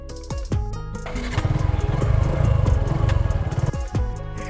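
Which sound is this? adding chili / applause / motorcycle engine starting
motorcycle engine starting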